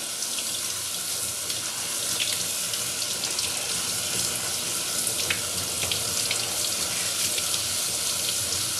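Tap water runs steadily into a bowl of rice being rinsed for Persian tahdig, a close, continuous hissing splash with faint grain and water swishing throughout, no talking.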